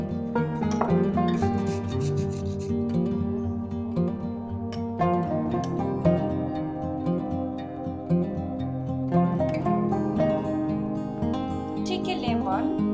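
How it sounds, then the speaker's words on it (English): A cucumber is rubbed against a grater in quick repeated rasping strokes, close and moderately quiet, the scraping continuing for several seconds. "Grate the cucumber."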